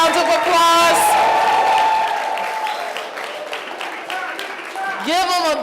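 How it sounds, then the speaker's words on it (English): An audience at an innoMAYtion 2017 kickoff event applauds loudly at first, the clapping gradually fading as a speaker's voice talks over it and continues afterward. "Give him a big round of applause"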